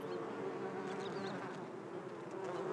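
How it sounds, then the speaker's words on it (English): Bees buzz steadily in the arid Bardenas Reales desert of Spain, a dense, continuous drone from many insects, close and even in loudness, with no voices. "bees choose to build their hives in the arid zone of Las Bardenas, where there aren't many flowers"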